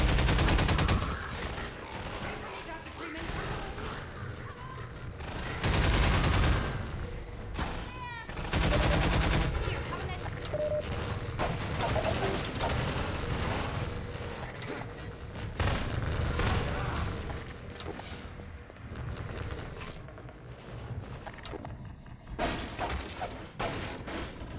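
Repeated gunfire in the Half-Life 2 shooter game, loud overlapping shots and bursts with clanking mechanisms and chaotic action sounds throughout.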